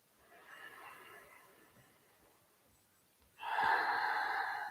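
Deep breathing during a tai chi and qigong workout: a soft, drawn-out inhale followed by a louder, fuller exhale, close and fairly quiet.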